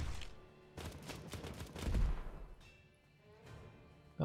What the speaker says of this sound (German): Aber nichts gegen ein bisschen Artillerie.